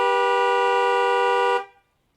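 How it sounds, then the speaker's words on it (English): Car horn giving one long, loud, steady honk in a harsh, angry tone, held for about a second and a half before cutting off into silence. "This was the honk that I heard."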